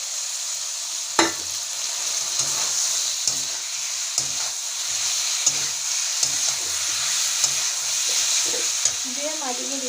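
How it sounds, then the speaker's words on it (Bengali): Fried cauliflower and potatoes sizzle in hot oil in a village kitchen, a steady bright hiss with repeated clacks of a spatula stirring the pan, close and continuous. "তেল ছেড়ে গেছে, এবারে ভাজা ফুলকপি আলুগুলো দিয়ে দেবো।"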